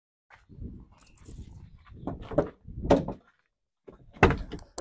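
Doors on a 1998 Isuzu Panther Royal are worked by hand, producing a series of close thuds, clunks and latch clicks spread over a few seconds.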